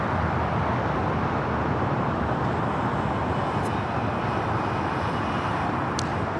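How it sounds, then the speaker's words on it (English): China Southern Cargo Boeing 777 freighter taking off at LAX, a steady, broad jet roar that holds loud and constant throughout, with no distinct changes. "that is China's Southern Cargo 446 taking off to Shanghai on the 777 freighter"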